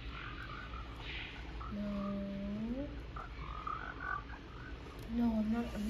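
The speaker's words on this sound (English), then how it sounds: "Too many frogs in the area." Frogs croak near a pond holding tadpoles. Several drawn-out and warbling calls rise over steady background noise, and one person speaks briefly.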